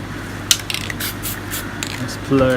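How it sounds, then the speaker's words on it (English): Short hissing bursts of a spray paint can painting a rock, close and choppy, before a voice starts talking at the end. "Spray a little bit."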